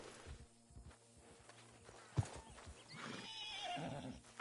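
A horse in Red Dead Redemption 2 whinnies loudly while its hooves clip-clop at a walk, nearby and fairly clear, with no talk over it.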